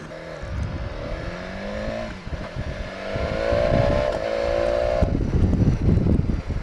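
A BMW S1000XR motorcycle engine revs and accelerates hard through rising gears while overtaking cars, rising whine with a shift dip and a rough, loud pull at the end, close to the microphone.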